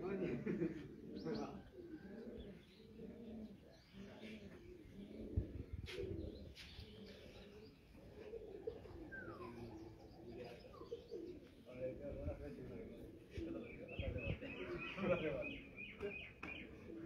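Domestic pigeons cooing and calling from a rooftop loft in Lahore, with soft repeated coos and occasional chirps over steady background noise while people talk nearby throughout.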